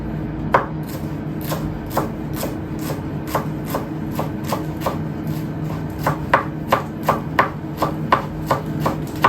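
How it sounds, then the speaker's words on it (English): A knife chops baby spinach leaves on a board, with a string of crisp, close taps in loose bursts that quicken into a steady rhythm toward the end, over a low background hum. "First of all, we're going to cut 5 leaves of baby spinach. We're going to chop them."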